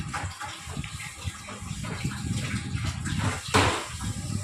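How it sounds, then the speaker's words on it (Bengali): A wok being scrubbed and rinsed in a home kitchen sink, running water splashing and gushing steadily with rubbing and clattering, loud and close, no speech. "এই যে বাসন মাজা কড়াটা মেজে নিচ্ছি"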